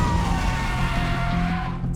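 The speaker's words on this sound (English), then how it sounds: "Suddenly, there was a loud screeching noise." A bus brakes hard with a loud, continuous screech and skid, sustained and close for nearly two seconds with a steady tonal squeal over low rumble.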